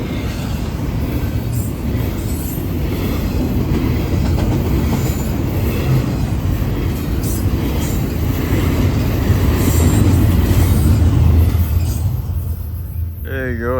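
A northbound BNSF freight train led by three GE GEVO locomotives rolls past close by, a loud continuous rumble of rail cars with wheel squeal and clickety-clack throughout.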